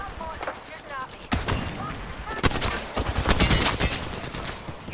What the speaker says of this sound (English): Bad boys are shooting at me.